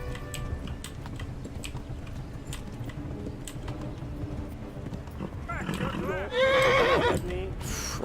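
A horse in the Kingdom Come: Deliverance video game gallops with a rapid hoof rhythm, then gives a loud, close neigh near the end over game ambience and voices.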